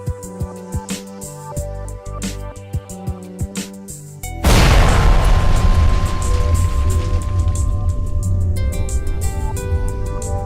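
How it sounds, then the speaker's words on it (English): Downhole perforating guns fire in a well during a Baker Hughes composite plug operation: a sudden loud boom midway, then a sustained roaring rush that slowly fades, with background music playing before and after. "The bottom hole assembly is then moved up hole and the guns are activated."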